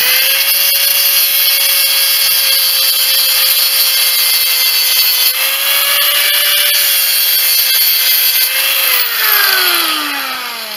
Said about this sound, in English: Take my grinder, just clean it up a little bit on top.